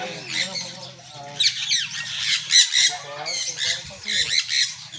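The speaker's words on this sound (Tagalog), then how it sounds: "Uy, bird!" Sun conure parrot squawking during free flight, a run of loud, harsh, repeated calls close by, with people talking in the background.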